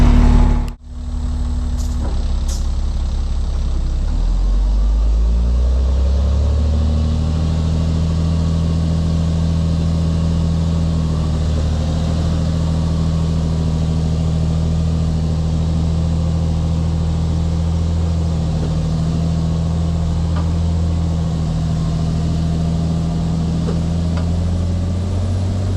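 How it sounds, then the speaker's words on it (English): A 6-wheel-drive truck's engine starts with a sharp crank, then settles into a loud, steady drone as it strains to pull the truck free, holding close and constant throughout. "let's see if 6-wheel drive will pull her out"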